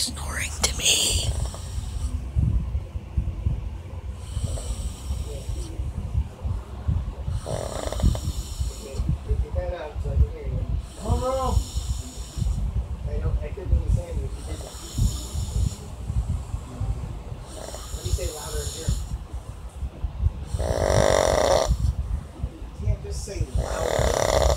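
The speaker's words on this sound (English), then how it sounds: "Sounds like snoring to me." A sleeping man snores in slow, regular rasping breaths, fairly close and steady across the clip, with soft whispered talk drifting in between.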